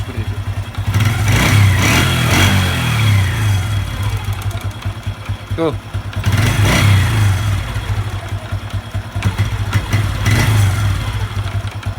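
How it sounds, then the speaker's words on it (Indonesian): A Honda Revo 110 motorcycle engine idles close by, then revs in two or three surges, each giving off an irregular knocking clunk. A single brief spoken word comes partway through. "kalau digeber dia kadang lepas gitu ada suara uduk seperti itu"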